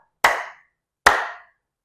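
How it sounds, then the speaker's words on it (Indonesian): Two crisp hand claps, loud and close, spaced just under a second apart, each with a short decaying tail in an otherwise silent room. "Tepuk 2 dari kanan dulu, baru ke kiri"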